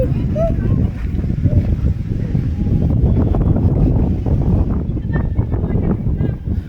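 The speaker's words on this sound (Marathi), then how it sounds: "लय हवा सुटली पण यार, खतरनाक लय हवा लागली" Strong wind buffets the microphone at an outdoor playground, a continuous loud rumbling roar throughout, with a voice faintly heard over it.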